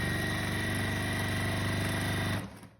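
A sewing machine stitches a seam through fabric held taut, giving a loud, steady mechanical whir with a fast rhythmic needle clatter that stops abruptly near the end.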